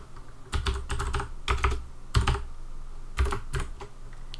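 Typing on a computer keyboard in bursts of rapid clicking keystrokes separated by short pauses, close and fairly quiet, no talk.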